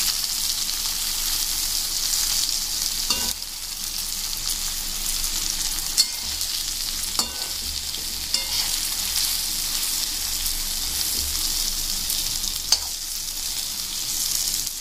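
Stuffed okra, Maharashtrian bharli bhendi, fries in a pan with a continuous close sizzle. Occasional soft spatula clicks and scrapes break through the hiss at irregular intervals.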